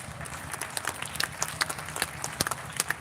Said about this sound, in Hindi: आपकी तालियां कमजोर रह गई